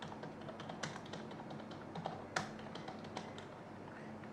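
Company name typed on a computer keyboard while creating a new customer in Peachtree accounting software: a steady run of quick, light key taps, close and fairly quiet, with a few sharper strikes.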